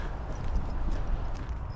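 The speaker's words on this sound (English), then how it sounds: "Oh, I've got some horses up here." Hooves clip-clop steadily as horses walk on grass in open countryside between Upshire and Epping, a soft continuous rhythm of dull thuds over low outdoor rumble.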